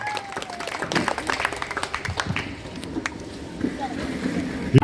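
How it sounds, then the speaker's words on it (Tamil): Audience applause at a Gandhi-Kamaraj-Sivaji triple celebration ceremony in Salem, a steady wash of clapping from a crowd with voices mixed in, ending with a few louder close claps. "அனைவருக்கும் அன்னார் அவர்களுக்கு ஒரு கைத்தட்டல் வழங்குமாறு கேட்டுக்கொள்கிறேன்."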